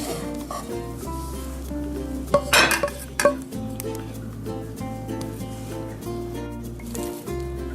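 A utensil scrapes and clinks against a pan and plate as cooked cheese croquette filling is moved out, with clatter bursts over a steady low hum in the kitchen.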